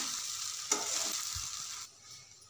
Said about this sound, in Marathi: शेंगदाण्याचा कूट टाकल्याच्या नंतर पण परतवून घ्यायचं आपल्याला